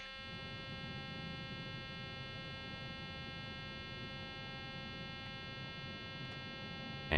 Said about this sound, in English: it's beeping because I was at flaps 15 without having gear down